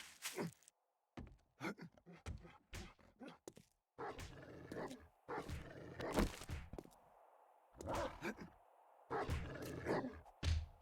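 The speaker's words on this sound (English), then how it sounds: "we get a wolf. You can hear it attacking." A wolf attacks in the survival video game 7 Days to Die, with loud roaring growls and snarls in repeated short bursts, broken by brief silences and mixed with thudding impacts.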